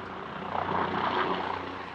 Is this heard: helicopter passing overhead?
yes